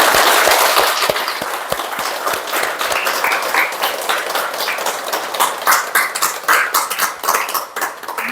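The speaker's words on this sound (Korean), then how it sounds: "박수 한번 주세요." Audience applause fills a meditation camp lecture hall after a Buddhist monk's Ganhwa Seon dharma talk, a dense sustained clatter of many hands clapping that starts with a few sharp claps and stays steady throughout.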